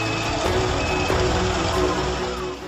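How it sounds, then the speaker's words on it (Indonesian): A truck being towed away by another truck after an accident, with a steady heavy engine rumble and repeated reversing beeps close by, no talk. "Truk pun dievakuasi menggunakan truk lain."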